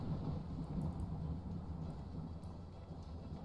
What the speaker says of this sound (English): you all just begin to hear the sound of thunder go through this area.